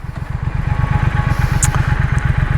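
A 2021 Triumph Thruxton RS engine thrums with a rapid, even low pulse while the motorcycle is ridden, loud and close, with steady wind noise above it.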